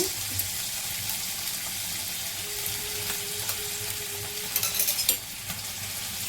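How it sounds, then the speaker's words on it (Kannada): Chicken liver fries with ginger garlic paste on a tawa, giving a soft, steady sizzle with occasional scrapes and a brief cluster of clinks near the end; a faint tone hums in the background. "ಒಟ್ಟಿಗೆ ಇದನ್ನು ಈಗ ಫ್ರೈ ಮಾಡಬೇಕು"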